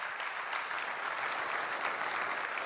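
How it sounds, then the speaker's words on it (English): An audience applauds a chess grandmaster's induction into the World Chess Hall of Fame. Even, sustained clapping from a crowd, heard at moderate distance without voices. "So once again, a round of applause for Judit Polgar."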